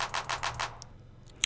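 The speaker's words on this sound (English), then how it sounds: "And then this is my second clap." A clap sample in FL Studio hits four times in a quick, even rhythm and then falls silent. The claps are fairly quiet and dry.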